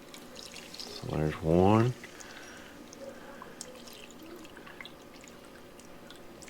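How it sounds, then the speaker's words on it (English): White vinegar poured into a mix of squash relish ingredients, a short liquid splash and gurgle lasting about a second with rising pitch as it fills, near and fairly loud, with a voice speaking briefly before it and a quiet room afterward. "Then we're going to add 2 cups of white vinegar."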